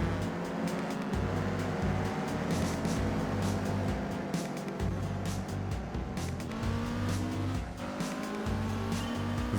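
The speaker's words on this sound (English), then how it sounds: "is it too loud or not for the engine sound?" A race car engine drones continuously with shifting pitch and repeated tire squeals in the Gran Turismo 4 video game, loud and sustained with no talking.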